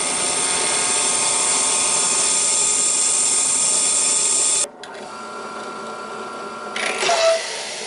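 A steady, loud mechanical whine of a drill press drilling a coin, running continuously, then abruptly cutting out and dropping to a quieter hum with a brief clatter near the end.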